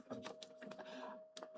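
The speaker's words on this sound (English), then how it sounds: "if you hear noise in the background, that's the 3D printer." A 3D printer running quietly in the background, its motors giving irregular clicks and whirring pulses alongside a steady faint tone.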